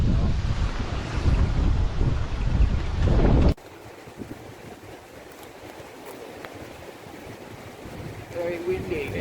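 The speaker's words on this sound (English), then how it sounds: "Very windy, very gale force winds." Gale force wind buffets a campsite by a campfire at Barmah on the New South Wales side, loud roaring gusts hitting the microphone for several seconds before dropping to a quieter steady blow; someone speaks briefly.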